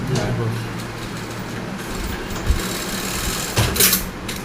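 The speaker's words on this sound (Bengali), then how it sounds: "তাহলে মেশিন অন করবো" A Juki LH-3528A-7 two-needle industrial sewing machine runs with a steady low motor hum and rapid stitching chatter, close by, with a couple of brief louder knocks and faint voices in the background.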